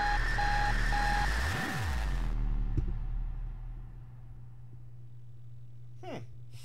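A sonic explosive from the Minecraft ICBM mod detonates with a loud whooshing, swept tone and a sharp crack, then cuts off into a low lingering hum and a faint later chirp.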